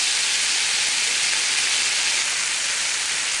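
Minced meat sizzles loudly in a hot non-stick pan over high heat for bobotie, a steady, hissing frying sound that stays even throughout with no talk.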